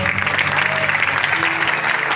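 A church congregation applauding during a Hindi-language worship service, a continuous dense clapping heard close and loud throughout the short stretch, with a faint voice briefly mixed in.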